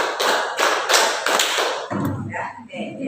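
Hands clap in a counted classroom exercise, several loud, evenly spaced claps in a row before the sound drops away and a voice speaks.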